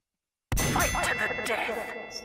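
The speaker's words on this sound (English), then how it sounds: "As soon as the bell rings, begin punching each other." Bell rung to start a round in a boxing match, heard as one loud metallic ding that lands sharply and then rings out with a slowly fading clang.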